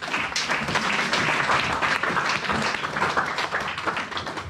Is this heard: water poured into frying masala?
no